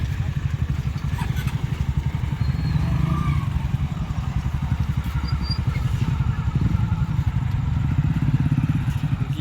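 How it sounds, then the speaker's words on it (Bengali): Several motorcycles roll aboard a river ferry, with engines idling and rumbling close and steady throughout and faint clatter and voices in the background. "এবার এই বাইকগুলো উঠবে"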